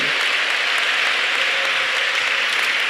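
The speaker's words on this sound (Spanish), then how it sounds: "Un aplauso fuerte para el Señor." A church congregation applauding together, making a loud, dense and steady wash of clapping that fills the whole stretch with no pauses.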